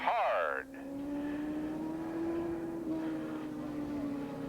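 A superbike engine howls at full throttle during a 1985 superbike race at Willow Springs International Raceway, a steady droning whine held flat out that rises slightly in pitch, with a louder rasping burst at the very start.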